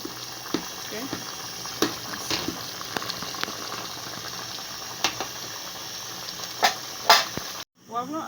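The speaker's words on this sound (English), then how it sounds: "You can see now as it's boiling fast." Unripe plantain boils fast in a pot over a gas flame in a traditional village kitchen, giving a steady bubbling hiss with scattered clicks and light knocks throughout, ending in a short dropout near the end.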